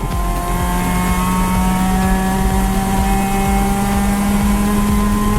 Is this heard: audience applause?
no